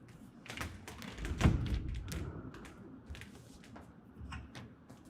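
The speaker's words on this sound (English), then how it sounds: "we're going to rotate it to where it catches and latches in place" A TruXedo Lo Pro soft roll-up tonneau cover's tail rail on a 2024 Ford Ranger is rotated until it catches on the cam lock, giving a dull, faint thud followed by a few light taps and knocks.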